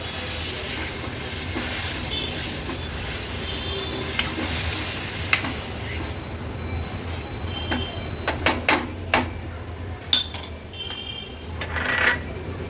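Sprouted, peeled moong beans sautéing in masala in a pan, a steady sizzle and hiss with a cluster of sharp spoon-scraping stirs near the end.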